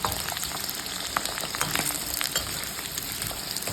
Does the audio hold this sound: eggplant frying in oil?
yes